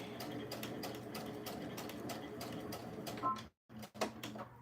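A sewing machine runs steadily, stitching a seam along a seam guide, its rapid rhythmic needle clatter continuing close and loud before stopping briefly and restarting near the end.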